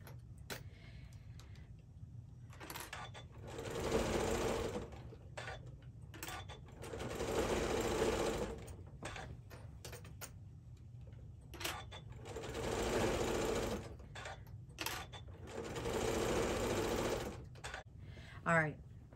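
A sewing machine stitches prairie points sandwiched between two layers of fabric on a pinwheel quilt border, running slowly through thick layers in four steady bursts with pauses between, while a person talks throughout.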